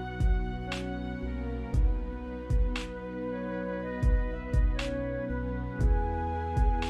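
A short chill-out music composition plays back on its own, with steady sustained tones and soft rhythmic percussive hits recurring every second or so, no talking over it.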